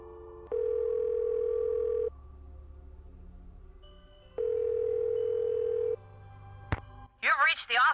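A telephone in the Nancy Drew game White Wolf of Icicle Creek gives two long steady dial-tone hums, then a sharp click, followed by a warbling ring burst, played alone without talk.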